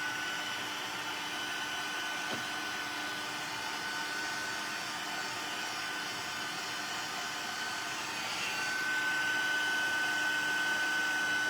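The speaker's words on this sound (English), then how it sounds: "So now we're going to use our heat gun." A craft heat gun blows hot air during card making, giving a steady, fairly quiet whooshing hiss that runs unbroken and swells slightly near the end, with no talking.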